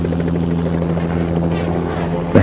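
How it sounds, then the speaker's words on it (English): A helicopter's steady rotor drone and buzz fills the air, close and loud, while it herds a family of elephants toward a road during a cull, holding level throughout. "The helicopter then keeps it there while ground crews get into position"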